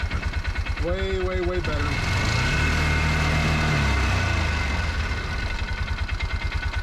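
A Bobcat 3400XL side-by-side, a Polaris Ranger 500, cranks and catches, then settles into a steady, rhythmic close-up idle while someone speaks briefly over it.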